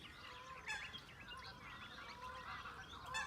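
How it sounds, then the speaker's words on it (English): A flock of geese honks continuously from a distance, overlapping calls forming a faint, busy chorus. "The geese are back,"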